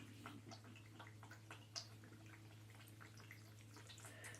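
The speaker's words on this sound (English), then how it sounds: "My cat is having water" A cat laps water in a quiet room, soft rapid wet clicks in an irregular rhythm over a low steady hum, faint and close, with no talking.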